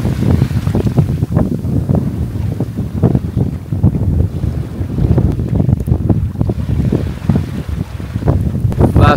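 A sailboat sails close-hauled in wind, with steady, loud wind buffeting and water rushing against the hull throughout, no voices.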